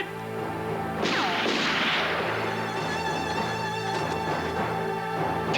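Gunfire in a TV police drama: a loud blast followed by a crashing burst and a second, fainter report, set over a constant background music bed with no talk.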